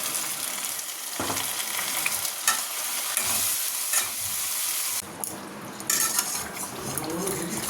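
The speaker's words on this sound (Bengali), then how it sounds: "পেঁয়াজ ভাজা হয়ে গেছে, এবার বেটে রাখা মশলাটা দিয়ে দেবো।" Ginger, garlic, tomato and green chili paste sizzles hard in oil over fried onions, with steady bright crackle, stirring scrapes and occasional clinks of a spoon against the pan, all close and without voices.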